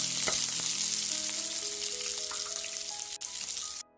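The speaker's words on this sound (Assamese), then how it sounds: "এতিয়া পিঁয়াজৰ আধা দি দিম, গোটেইখিনি নিদিওঁ। এইখিনি ভালকৈ লাৰিম।" Onions sizzle and crackle steadily in a hot pan while being stir-fried, a loud, continuous frying hiss with occasional stirring scrapes, cutting off at the end.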